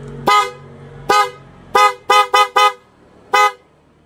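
Car horn on a motorcycle being repaired after a blown fuse, sounding seven sharp honks: two separated toots, then a quick burst of four short beeps, and a final toot, loud and close with no talking.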